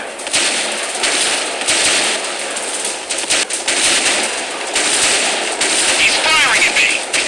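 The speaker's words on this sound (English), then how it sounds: "He's firing at me." Rapid bursts of machine-gun fire crackle loudly and repeatedly in a World War II aerial dogfight video game, layered over a constant roaring engine drone.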